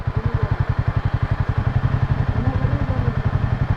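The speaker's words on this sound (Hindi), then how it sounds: "अब जब बाइक थोड़ी सी ठंडी करी है तो वो स्टार्ट हो गई है" A motorcycle engine, restarted after being left to cool following a failure to start, runs nearby with a steady rapid low thumping pulse and slight clatter, holding a constant rhythm throughout.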